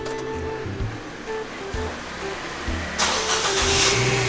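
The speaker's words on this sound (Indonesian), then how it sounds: "Kita panasin mobil dulu sebelum berangkat." A car engine runs at a steady idle while warming up before a trip, a low continuous rumble close by, with a brighter hiss swelling in toward the end.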